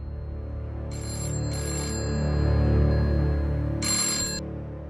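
A telephone rings in a home interior, three bright trilling bursts with pauses between, fairly close over a low background hum.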